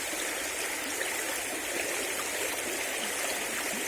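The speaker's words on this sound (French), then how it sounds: "Ce cours d'eau est superbe." A stream of water flows steadily beside a spot where insects fly, a broad continuous rushing wash held at an even level throughout, close and alone with no voices.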